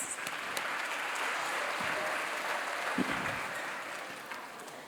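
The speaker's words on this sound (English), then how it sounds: "So applause to all of us." An audience at a school annual day event applauds everyone who took part, steady, full clapping from a sizable crowd sustained throughout with a faint voice beneath.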